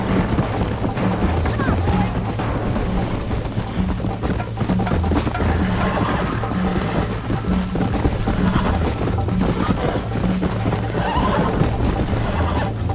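A horse galloping in the video game Red Dead Redemption, with a dense, loud run of hoofbeats, whinnies and game ambience filling the whole stretch while a player talks over it.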